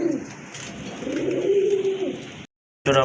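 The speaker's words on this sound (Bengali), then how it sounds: "পাঞ্জা কবুতর দেখতে পাচ্ছেন মাসাল্লাহ সিলভার কালার ভিতরে দেশি কবুতর খুবই চমৎকার একটা কবুতর" Silver-coloured Panja pigeons coo in a loud, drawn-out rolling call close by, rising and swelling over a couple of seconds before a brief dropout and a second burst begins.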